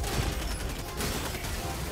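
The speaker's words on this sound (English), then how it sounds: "Just let my gun do all the work." A dense, steady wash of gunfire in a video game, continuous crackling volleys with no clear single shots, loud and sustained throughout.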